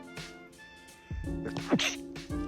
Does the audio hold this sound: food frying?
no